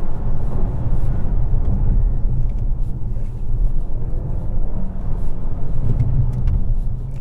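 A DS 9 E-Tense 4x4 with a petrol engine drives along on a windy day, giving a steady, continuous low rumble of engine and road noise with no break and no voices.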